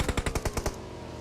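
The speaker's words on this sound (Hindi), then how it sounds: "और आखिरकार इन्होंने दबा के गोली चलाई।" Rapid burst of about seven loud gunshots from the PUBG Mobile video game, evenly spaced and close, followed by a short fading tail with no talk.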